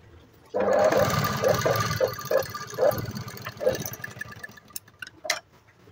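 A sewing machine runs continuously while stitching a button placket with a three-thread seam margin: a steady mechanical whir with rhythmic pulses that eases off near the end.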